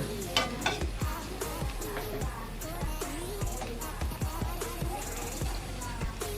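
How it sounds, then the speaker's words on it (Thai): Eel curry ingredients stir-fried together in a pan: steady loud sizzling with a rhythmic series of spatula scrapes and knocks against the pan, close up and continuous, with no talk. "ผัดทุกอย่างรวมกันจ้ะ"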